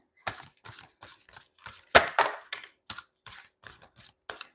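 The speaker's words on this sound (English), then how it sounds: "I just started shuffling, didn't say anything." Tarot cards being shuffled by hand, giving a run of crisp, close snapping and riffling clicks in an uneven rhythm, with one louder flurry midway and no talking.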